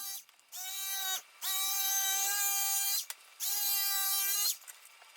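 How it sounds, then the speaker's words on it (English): A knife cutting along the edge of a foam hip pad gives a high, steady mechanical whine in three sustained passes separated by brief pauses. "I'm going to cut along the edge of each pad, trying hard to keep the knife as straight or as flat as possible"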